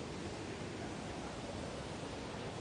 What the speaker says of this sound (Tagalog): Yung maririnig yung falls tubig.